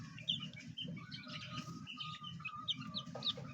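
Young chicks peep in a steady, busy chorus of high, thin chirps, close by and moderately loud, with a low clucking hen mixed underneath and no talking.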